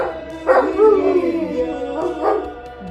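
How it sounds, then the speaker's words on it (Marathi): A pet dog named Ragnar howls in long, wavering, mournful tones, rising and falling across a few seconds, close and loud, singing along to a devotional Hanuman Chalisa chant. "रॅग्नार उठून बसतो आणि काही सेकंदातच तो स्वतःच्या आवाजात त्या चालीसात सूर मिसळतो"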